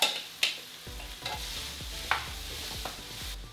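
Black beans, frozen corn and a sausage mixture are stirred in a pan, making a run of rhythmic scraping strokes over a quiet sizzle, close and without voices.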